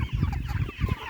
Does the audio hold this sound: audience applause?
no